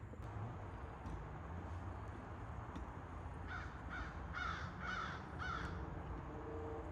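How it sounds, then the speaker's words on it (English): Crows cawing in a garden in the early morning, a run of several harsh calls in quick rhythm midway through, over a constant low outdoor hum with faint distant ticks. "And you can probably hear the birds chirping,"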